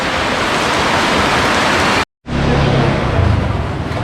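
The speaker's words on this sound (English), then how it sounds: "So it's officially raining." Heavy rain pours down near a jungle trek area in Bukit Lawang, a loud, dense, steady hiss that cuts out for a moment and then returns with a low rumble beneath it.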